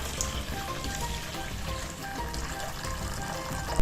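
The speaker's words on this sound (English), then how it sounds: "And then just pour into the simmering basket." Beef pho stock poured from a large bowl through a Thermomix simmering basket, a continuous splashing, trickling pour heard close up with no talking.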